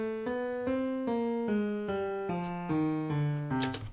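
C melodic minor scale played note by note, climbing then falling back with the flattened notes, on a sustained melodic instrument: about ten even, connected tones at a moderate tempo, quiet and alone.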